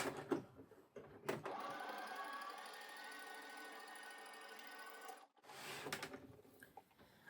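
A sewing machine sews a seam in boiled wool on a long stitch length, giving a quiet, steady mechanical whir that runs for about four seconds between short bursts of handling noise.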